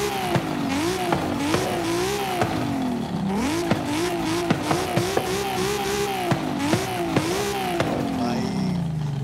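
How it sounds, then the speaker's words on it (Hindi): A BMW M5 Competition's engine revs up and down repeatedly at close range, rising and falling in pitch with sharp blips between pulls, and people talk over the engine noise. "ये हमारी M5, तुम समझो BMW M5"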